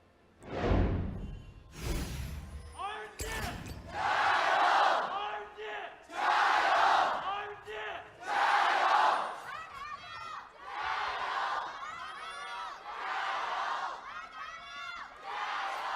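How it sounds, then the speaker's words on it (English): A large esports arena crowd at an LPL League of Legends semifinal in Beijing roars and chants in repeated loud surges, with shouting bursts and rhythmic cheering swelling and fading across the stretch. "I want to hear the crowd go ballistic one more time"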